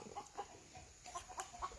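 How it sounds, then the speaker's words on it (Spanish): A hen clucking softly in short, irregular bursts, faint and close, against a quiet outdoor background with no talking. "Ya la gallina está durmiendo."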